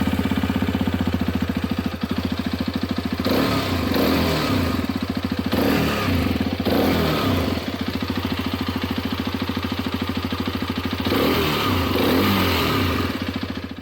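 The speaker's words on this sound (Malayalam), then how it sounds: "നല്ല രീതിയിൽ എക്സോസ്റ്റ് നോട്ടും കൂടെ ഞാൻ കേൾപ്പിച്ചു തരാം." A Hero Xpulse 210 motorcycle idles steadily up close, its exhaust note broken by several sharp revs that rise and drop back, loud and continuous with no talk.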